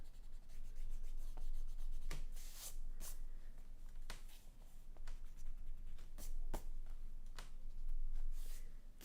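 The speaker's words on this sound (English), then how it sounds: "There's just a little bit of stuff I need to erase here." A pencil eraser rubs across a bullet journal page in a series of short, scratchy bursts, close and fairly quiet, with brief pauses between strokes.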